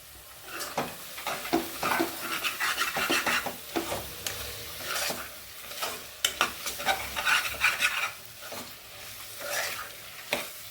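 Vegetables with tomato and onion are sautéed and stirred in a pan for a vegetable bread biryani: repeated close scraping strokes of a spoon over a low sizzle, in uneven bursts.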